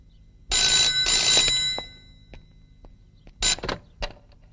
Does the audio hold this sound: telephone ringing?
yes